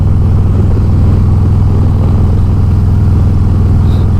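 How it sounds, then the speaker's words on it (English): A 2022 Harley-Davidson Road Glide Special idles through its exhaust pipes with a loud, close, steady low rumble and an even lumpy pulse, and no one speaks. "And the pipes sound pretty good."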